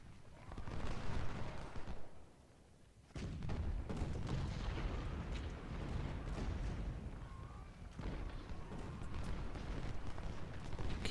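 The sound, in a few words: cannon and musket fire in Ultimate General: Civil War video game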